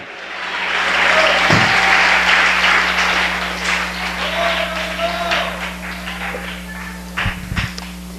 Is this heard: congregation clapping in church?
yes